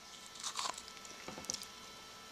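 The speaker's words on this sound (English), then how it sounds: "Crunchy meat." Someone bites into and chews freeze-dried kielbasa or Italian meatball, producing faint close crunches and crackles in a quiet room.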